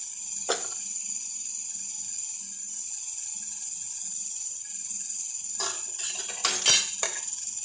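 Four beaten eggs being mixed with chutney and salt in a bowl for an omelette: a few sharp utensil clinks and scrapes against the bowl, mostly near the end, over a quiet steady background hum.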